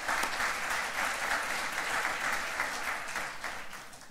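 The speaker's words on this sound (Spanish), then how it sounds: "Un aplauso también para ella." Audience applause at a tourism conference session in Aysen, Chile: a steady, dense clapping that fills the room for the full four seconds and tapers slightly at the end.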